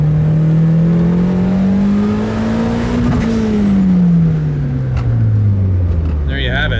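Hard acceleration from a Megasquirt-tuned car, its engine revving loud and close with a steady rising drone that peaks midway, then eases off and falls as the throttle lifts.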